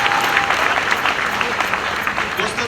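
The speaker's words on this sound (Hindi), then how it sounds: "एक बार जोरदार तालियां" A large seated audience at a business meeting claps loudly and steadily, dense applause filling the whole moment without a break.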